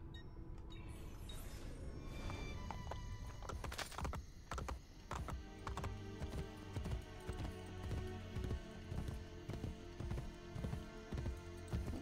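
Horse galloping in the video game Assassin's Creed Brotherhood, a steady rhythmic run of hoofbeats that continues throughout over game music and ambience, moderately loud and close.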